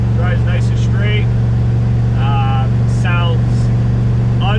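A C2 Corvette with side exhausts drones with a steady deep, loud hum at a constant pace, while people talk over it throughout.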